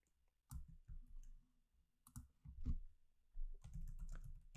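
Fingers type on a computer keyboard running Linux Mint, producing several close bursts of crisp key clicks separated by short quiet gaps.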